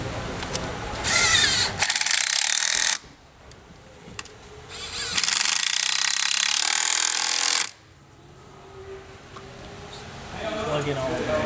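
A power tool runs in two loud bursts, each a few seconds long, while fuel rails on a HEMI engine are tightened down. Talk fills the gaps between and around the bursts.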